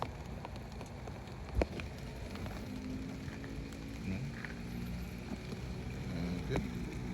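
Light drizzle falling outdoors near water at dusk, a faint, steady patter with soft scattered drops and one brief louder knock, no talking.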